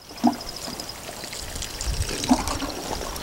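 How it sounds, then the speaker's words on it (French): Water poured from a can or jug onto freshly planted passion fruit cuttings in soil, a soft steady trickle lasting a few seconds with a couple of light knocks, close by and without talk. "Une fois que vous avez tchouqué, vous allez juste arroser."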